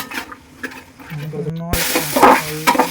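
Beef curry ingredients sizzle in a hot pan while a spoon stirs them, with short clattering scrapes against the metal and a brief tonal squeak partway through.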